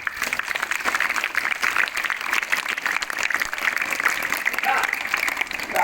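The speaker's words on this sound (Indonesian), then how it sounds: "Tepuk tangan untuk para guru." Audience at a Friday gathering at an Indonesian Islamic junior high school applauds the teachers, a steady wash of clapping for about six seconds, with voices mixed in.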